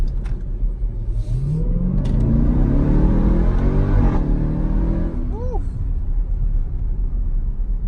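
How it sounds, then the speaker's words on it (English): A Jeep Grand Cherokee Trackhawk is revved hard, its rumbling engine rising in pitch with a climbing supercharger whine, then easing off and settling into a loud idle. "let's hear some supercharger now"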